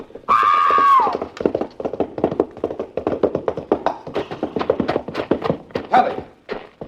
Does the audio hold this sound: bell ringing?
no